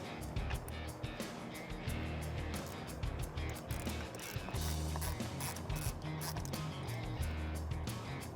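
Hand ratchet loosening a coil pack bolt on a 2011-2014 Ford F150 3.5L EcoBoost engine, heard as a steady run of close, rapid clicking pawl strokes continuing for several seconds with brief pauses.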